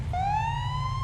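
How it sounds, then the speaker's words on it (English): Police car siren in the Police Simulator game, a single clear tone winding upward as it starts, loud and sustained over a low engine hum. "sound of the sirens."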